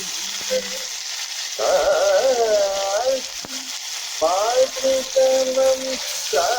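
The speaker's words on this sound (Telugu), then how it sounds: "ఆయిల్ పోసుకొని ఆవాలు జీలకర్ర వేసుకోవాలి వాటిని కొంచెం ఫ్రై అయిన తర్వాత అల్లం వెల్లుల్లి పేస్ట్ కూడా వేసుకుంటున్నాను" Mustard seeds, cumin and ginger-garlic paste fry in hot oil for a spring onion curry, giving a loud, steady sizzle and crackle that rises and falls over a background of sustained melodic tones.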